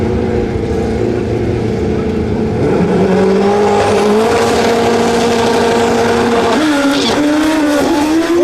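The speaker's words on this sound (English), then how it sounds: "Wheelie crash in the quarter mile during XTA Pro Street" A drag-racing motorcycle in an XTA Pro Street quarter-mile run roars loud and close, its engine pitch climbing and shifting steadily over a constant background rumble, with no distinct impact standing out.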